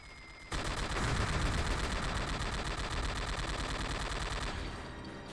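Sustained machine gun fire in the video game Commandos: Strike Force, a dense unbroken rattle of rapid shots that starts abruptly and holds steady for about four seconds before easing off, loud and close with no voices.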